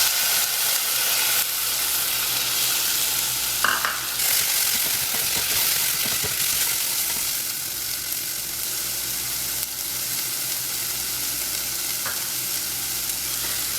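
Chopped tomatoes sizzle loudly in a spiced masala in a pan for an Indian-style pasta, a constant hissing fry with a few stirring scrapes mixed in.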